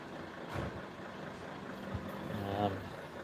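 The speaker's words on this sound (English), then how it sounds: "There's that truck again." A truck rumbles past on a normally quiet residential street, its low engine noise steady and moderately close, with a brief hiss near the end.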